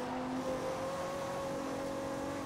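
A car engine drones steadily in the Forza Horizon racing game, a smooth, even tone holding at moderate level without speech.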